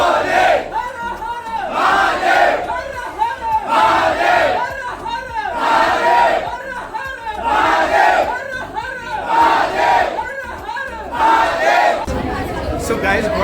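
A dense crowd of devotees at the Omkareshwar Jyotirlinga temple, loud and close, with many voices chanting and calling out together in rhythmic waves, a steady roaring mass of people without a break.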